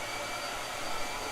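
A blow dryer runs steadily in an art studio, a constant whooshing hum with no breaks, fairly quiet throughout.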